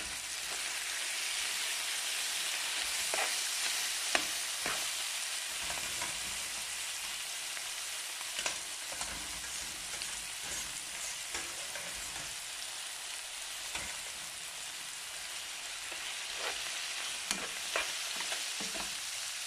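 Leek and tomato fry in a pan with a steady, dense sizzle and occasional stirring clicks, all alone and continuous, while a turkey blanquette with leeks and cream is being made.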